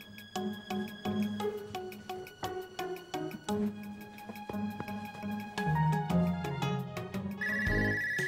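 A telephone ringtone plays a repeating melodic pattern of bright electronic tones, close and clear, with no talking over it.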